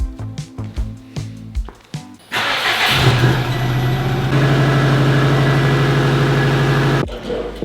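A Subaru WRX with its factory muffler and cut-out resonator fires up after a few clicks and cranks, then settles into a loud, steady exhaust burble nearby with a slight rise in revs before cutting off.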